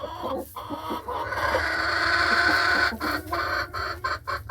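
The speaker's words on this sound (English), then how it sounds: "The chickens get excited about something" Several chickens cluck and squawk excitedly nearby in a forest in Guatemala, with sharp calls breaking through a busy, continuous flock chatter.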